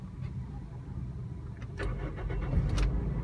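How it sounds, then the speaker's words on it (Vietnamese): A 2010 Toyota Vios E sedan's engine cranks and catches into a low, quiet idle rumble, heard from inside the car with a faint click or two. "Đề máy cho các bác cùng nghe nhé."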